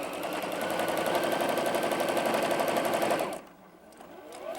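A sewing machine runs a quarter-inch quilt seam in a fast, steady, close-up stitching rattle that stops abruptly near the end, followed by quieter handling sounds.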